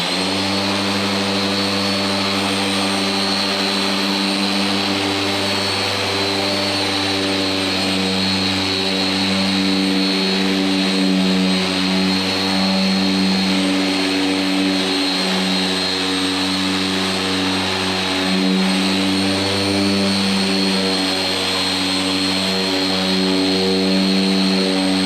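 An electric car polisher spins steadily while compounding paint, giving a loud continuous motor hum with layered harmonic whine that holds for the whole stretch, with a brief dip before rising again.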